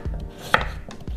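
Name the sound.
knife chopping carrot into rounds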